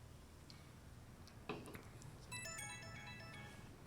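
A phone ringtone in the video game Persona 5 Royal, a bright beeping melody of short repeated tones, preceded by a soft click and playing clearly over a low game background hum.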